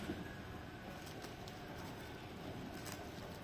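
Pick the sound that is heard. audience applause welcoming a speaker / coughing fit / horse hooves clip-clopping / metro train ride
metro train ride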